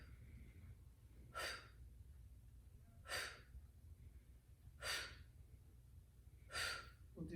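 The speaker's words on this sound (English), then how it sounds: "you're gonna hear me breathe, I'm gonna exhale" A yoga practitioner exhales forcefully four times at steady, evenly spaced intervals, each a breathy, hissing whoosh heard close and quiet over a faint low room hum.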